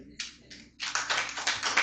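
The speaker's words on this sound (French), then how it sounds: "On peut les applaudir." Church congregation applauding during a Sunday worship service: two short bursts of clapping, then a louder, denser round of many hands that carries on to the end.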